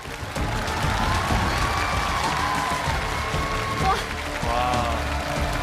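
A television studio audience at a challenge show applauds in a dense, continuous wash of clapping that runs throughout, with music tones sounding over it.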